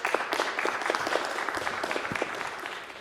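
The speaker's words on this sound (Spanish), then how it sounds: "los recibimos con un fuerte aplauso" An audience at a conference session on applying analytics in organizations claps to welcome the speakers, a dense, steady applause of many hands held at an even, moderately loud level throughout.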